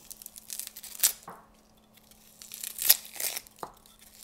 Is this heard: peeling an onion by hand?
yes